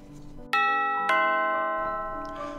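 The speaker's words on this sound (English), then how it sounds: "Just then, the doorbell rang." A doorbell chimes twice, two bright ringing tones that sustain and slowly fade, with a faint low hum beneath.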